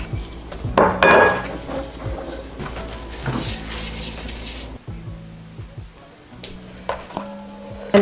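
Bowls clatter and clink on a kitchen counter while oil is added and pumpkin bagel dough is set inside, a run of close knocks and ceramic taps with one sharper clatter near the start, no voices.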